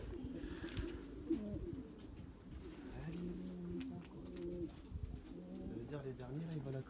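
Racing pigeons coo steadily at the home loft as birds return from a 143 km race, with a continuous low burbling chorus and people talking in the background.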